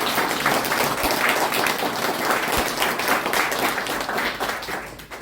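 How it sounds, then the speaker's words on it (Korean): An audience at the launch ceremony of a fair-election emergency committee gives a hearty round of applause, dense clapping that holds steady before tapering off at the end. "큰 박수 한번 해주시기 바랍니다."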